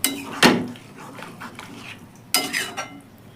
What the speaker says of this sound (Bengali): এবার নেড়ে চেড়ে দিলাম।